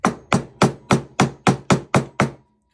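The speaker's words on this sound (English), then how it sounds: "Take your hammer, drive your pin on through." Nine sharp hammer blows drive a metal pin through a knife handle, struck at a steady quick rhythm, close and loud, then silence.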